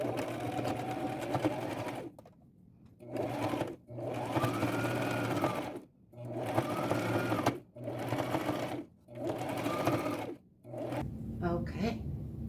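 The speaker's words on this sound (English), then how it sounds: "If when I get it off, something needs a little extra stitching, I'll just run it back through the machine." A sewing machine stitches an upcycled boho belt in several short runs of steady whirring, with brief pauses between bursts and a soft rustle at the end.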